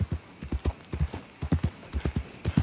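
Horse hooves clip-clop in a steady, close, loud walking rhythm across a Red Dead Redemption 2 game scene, with no voices over them.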